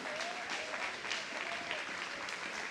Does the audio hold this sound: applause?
yes